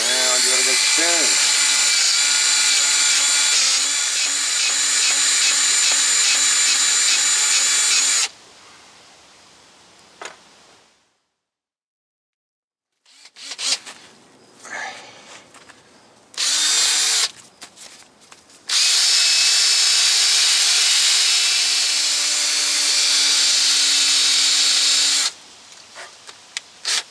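A power drill spinning a brake caliper pin from a 2004 GMC Sierra 2500 whines loudly at high speed for several seconds, then stops; after a pause with clattering and handling noises, it spins again.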